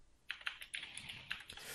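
Fingers tapping on a computer keyboard in quick, irregular clicks, fairly faint and close, with no talking over it.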